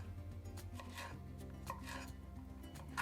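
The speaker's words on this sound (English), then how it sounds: "I'm going to add in a couple jalapeños from my garden. I'll give these a nice chop up." A knife chops fresh garden jalapeños for vegetarian tacos, with soft repeated cutting taps on a board at a quiet level over faint steady background music.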